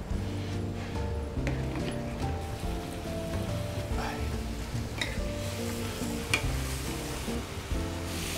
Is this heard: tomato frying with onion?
yes